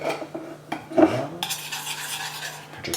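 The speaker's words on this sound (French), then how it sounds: "Je commence à mélanger." A spoon scrapes and clinks in a dish while stirring two tablespoons of Dijon mustard, giving close, irregular metallic taps and scrapes with a brief louder clatter.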